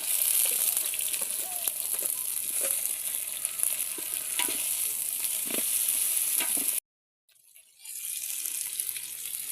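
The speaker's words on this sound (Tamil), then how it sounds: "நல்லா வதக்கிக்கொள்வோம். வெங்காயத்தை பூண்டு விழுது," Onions sizzle with garlic paste in a hot pan for a veg biryani, a steady close frying hiss with stirring scrapes, cutting briefly to silence before the sizzle resumes.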